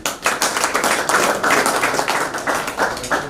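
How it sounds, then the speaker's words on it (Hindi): Loud, brisk clapping from the audience at a family retirement party, fast and irregular, filling the whole short moment with no talk over it. "इसके लिए भी जोरदार तालियां करिए।"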